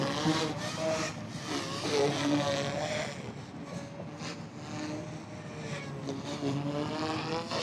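A Blade InFusion 210 RC helicopter flies a stunt with a steady, close whirring rotor drone that swells and fades through the maneuver, with faint voices nearby.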